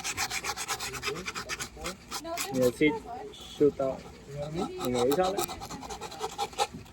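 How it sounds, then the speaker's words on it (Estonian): Wooden birdhouse parts are hand sanded, giving repeated rasping rubs that come in bursts beneath a man's close, continuous speech. "Nii et samal ajal kui ma lihvin"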